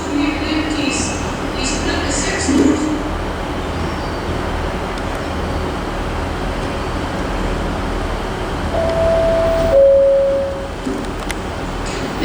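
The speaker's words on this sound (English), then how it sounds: "just popping up down here is a terminating ScotRail service from Inverurie" A ScotRail Class 158 diesel train rolls into Aberdeen station, a steady low rumble and hum of wheels and engine with brief horn-like tones near the end, while a voice talks over it.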